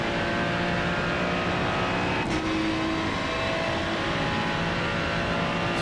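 Race car at Monza accelerating hard, a loud continuous engine roar heard from inside, the pitch climbing and dropping as it works up through the gears.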